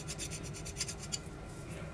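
A hand file rasps across a steel workpiece to flatten the raised burr left by center punching, steady back-and-forth strokes close up with no talking.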